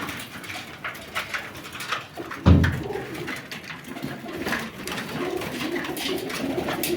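Pigeons coo on a rooftop loft among a flock of homing pigeons, soft repeated coos and scattered calls with a louder burst midway, wing and foot patter in the background, no talking.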